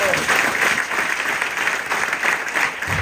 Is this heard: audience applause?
yes